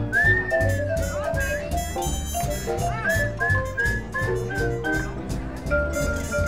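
A bright melodic whistle carries a tune over busy background music with a steady bass line, the whistled notes gliding and repeating throughout.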